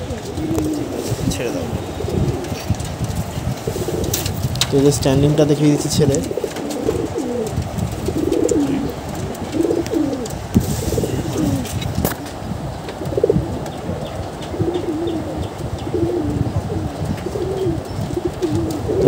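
Pigeons of a fancy breed coo repeatedly in soft rolling phrases close by, while someone talks over them and faint wind passes.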